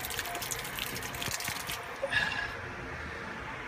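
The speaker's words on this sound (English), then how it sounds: "I think that's pretty good water flow." Cooling water from a Yanmar 2GM diesel engine streams and splashes steadily, a continuous close trickle that thins slightly toward the end.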